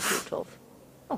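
A single quick human sneeze bursts out at the start, followed by short breathy vocal sounds and a brief spoken word.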